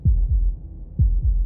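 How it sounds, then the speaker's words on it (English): Heartbeat in the video game Slay the Princess: two pairs of deep, thudding lub-dub beats, close and fairly loud over a low hum, with no talk. "That was the sound of a heartbeat"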